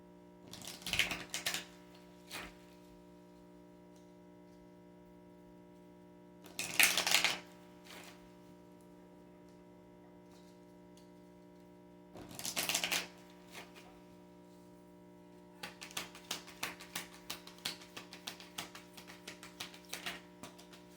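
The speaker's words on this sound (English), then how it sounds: "I'm going to pull some Kali cards and see what Kali has to say for you" Kali oracle cards being shuffled and pulled: a few short papery bursts spaced through the quiet, then a longer run of quick, crisp riffling flicks near the end, with no talking.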